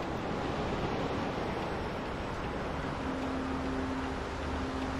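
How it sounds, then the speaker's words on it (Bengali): Sea waves crash steadily on the shore at Gangasagar, a continuous broad roar of surf with wind rushing across the microphone and no pause throughout. "দেখুন ঢেউ কিরকম আছড়ে পড়ছে"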